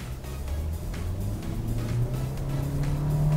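A Hyundai Stargazer with a CVT-type IVT transmission accelerates in sport mode on an empty straight road, its engine a steady, rising drone heard from inside the cabin without speech.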